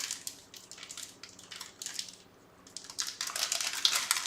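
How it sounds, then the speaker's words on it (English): Plastic bags wrapping documentation crinkle and crumple close by in bursts of sharp rustling, with a brief quiet pause in the middle before more handling resumes, and no voices. "plastic bag with documentation, further plastic bag, inside of that further plastic bag"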